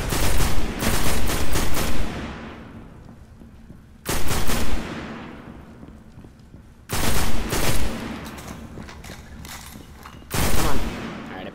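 Gunfire in the sci-fi shooter Destiny on Xbox One comes in four loud, rapid automatic bursts of two to three seconds each, separated by quieter stretches as the echoes fade.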